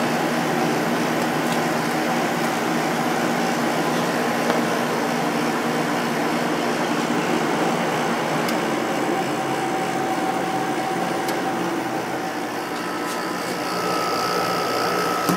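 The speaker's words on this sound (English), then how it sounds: "This is an 8500 BTU air conditioner. It's got a Matsushita compressor and a Samsung fan motor." An 8500 BTU window air conditioner with a Matsushita compressor and Samsung fan motor runs steadily, giving a constant close hum and whoosh with a faint tonal whine and no talking.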